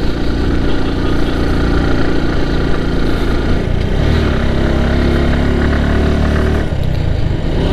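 A motorcycle engine runs steadily at low revs, loud and close, with the drone of other idling vehicles around it while crawling through a traffic jam on a hill road.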